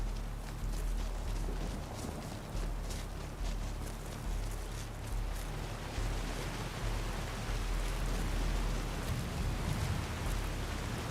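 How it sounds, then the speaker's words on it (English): Steady rain mixed with snow in Skyrim, a dense, even hiss of falling precipitation with soft patter, constant and moderately loud with a low rumbling undertone. "Rain mixed with snow, making things slushy and wretched."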